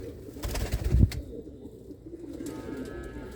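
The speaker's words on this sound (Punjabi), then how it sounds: "ਇਹ ਹੈ ਆਪਣਾ ਇੱਕ ਖੁੱਡਾ ਤੇ ਆ ਕਬੂਤਰ ਕੁਝ ਬਾਹਰ ਆ ਕੇ ਬੈਠੇ ਆ" Pigeons sitting outside their loft coo in a soft, low, throaty murmur near the start, followed by quieter ambient rustle and faint bird sounds.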